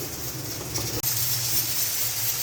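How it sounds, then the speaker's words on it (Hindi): Chicken meat frying hard in oil on a high flame while being browned for white yakhni pulao, a continuous loud sizzle and hiss with a brief dropout, no talking. "अब मैं फ्लेम को हाई पे करके इसकी अच्छे से भुनाई कर लेती हूँ।"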